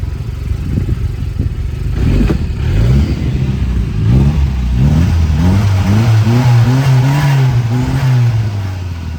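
A 1293cc Avonbar turbo Mini engine revs hard and loud, its pitch climbing and dropping in repeated rising sweeps before settling into a sustained high whine, close up with no talking.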